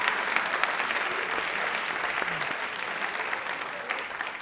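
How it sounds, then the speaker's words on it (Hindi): An audience in a studio for a Rajasthan TV quiz show claps steadily for a female teacher, forming a dense, even wash of applause that lasts throughout. "ताली एक बार पहले मैम के लिए बजा दीजिए फिर।"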